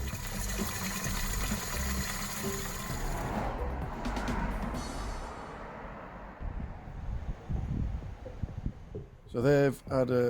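Water pours steadily into hanging baskets of freshly planted fuchsias set in new compost, a continuous splashing gush that tapers off midway, followed by brief clattering handling noises near the end.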